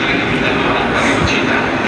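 A train rumbles steadily at a railway station, a continuous close roar of wheels and carriages with a person talking over it.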